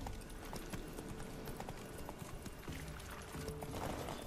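Horse hooves gallop in a fast, steady clip-clop rhythm in The Witcher 3 video game, close and continuous over a busy ambient background with no talk.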